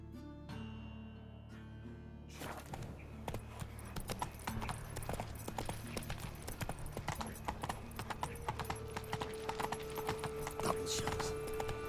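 Roach, the horse in The Witcher video game, trots with steady, close hoof clip-clops after a brief quiet opening, alongside a soft whinny and low ambient game sounds.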